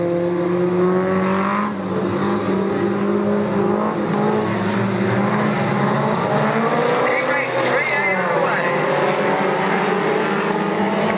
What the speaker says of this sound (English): So look for Jack Nolan and Ben McCalum to race to the checkers.